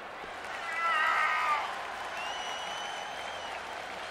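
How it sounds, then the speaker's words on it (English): A crowd in the WWE 2K20 wrestling video game roars and applauds, swelling briefly and then holding a steady hum of cheering. "Listen to this crowd, guys. They're fired up for this one."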